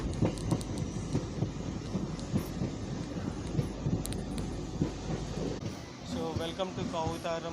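A MEMU passenger train running on the Machilipatnam–Vijayawada line rumbles and clatters with rhythmic wheel thumps just after leaving Gudlavalleru, while someone talks over it, the track noise dropping near the end as his voice continues.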